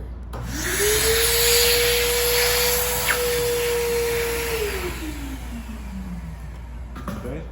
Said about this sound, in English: just gonna stick this conduit right here in the vacuum, and turn it on